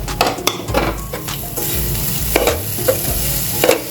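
Grated coconut and chopped jaggery roasting in a pan as modak filling, a spatula stirring and scraping in quick repeated strokes over a light sizzle, close and loud.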